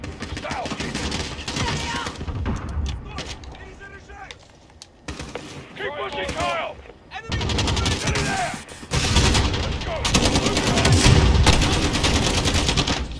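Bursts of rapid automatic gunfire and single shots from a Call of Duty Modern Warfare campaign mission, loud and close, recurring across the stretch with brief lulls between volleys, and a player's voice talking over it.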